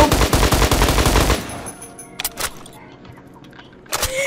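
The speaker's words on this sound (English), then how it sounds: "You were shooting at a propane tank." Rapid loud gunfire bursts fired at a propane tank fill the first second and a half, followed by quieter background with a few brief sharp impacts or clicks later on.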